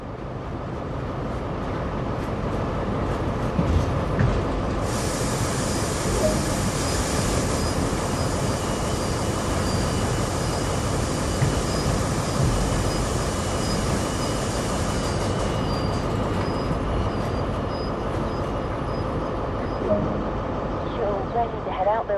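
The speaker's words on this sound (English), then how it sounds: "Set the train brake handle to initial to apply a small amount of braking force and let the brakes do the rest." A train in the video game Train Sim World, Great Western Express, rumbles steadily with a high, thin brake squeal appearing partway through and fading near the end, against constant low mechanical noise.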